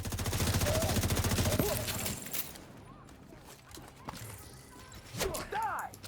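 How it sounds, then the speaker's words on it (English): Rapid video game gunfire rattles in a fast burst for about two seconds, then scattered shots and whizzing effects follow more sparsely, loud and close. "I'm gonna shoot this guy in the backpack. Shoot this guy."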